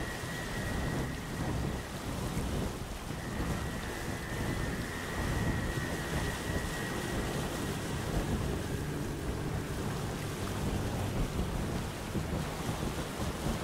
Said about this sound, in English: the ever-raging storm that surrounds the islands